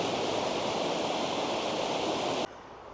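Steady broadband rush of flowing water where the rivers Ivel and Ouse merge during a 2025 drought, continuous and fairly loud, cutting to a quieter wash near the end.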